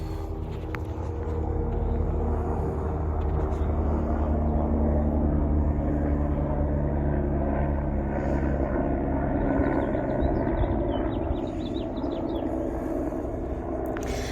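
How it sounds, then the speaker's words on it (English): A steady low engine rumble and droning hum of a helicopter passing overhead, continuous and fairly loud throughout, with no talking. "Correction, it's a helicopter."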